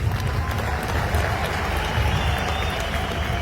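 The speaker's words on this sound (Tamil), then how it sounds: "இவங்களுக்கு ஒரு கைத்தட்டல் கொடுங்க" An audience at a large outdoor political rally gives a steady burst of clapping for the local organisers, dense and continuous throughout.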